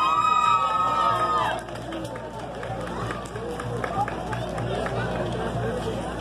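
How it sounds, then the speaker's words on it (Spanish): A crowd at an award ceremony applauds and cheers in a loud, dense wash of clapping and voices that fades slightly after an opening shout, with talk running beneath. "Fuerte el aplauso para los representantes de Maquilas Tetacaui"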